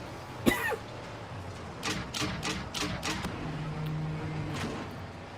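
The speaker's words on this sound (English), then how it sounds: "concerned about me coughing" A person coughs once sharply and loudly up close, followed by a few softer throat sounds and a low droning hum in the background.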